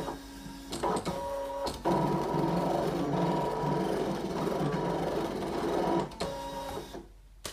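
A ScanNCut electronic cutting machine slices a moon shape from fabric, giving a steady motorized whir and rattle with brief pauses as the blade carriage shifts, fairly close and with no talking.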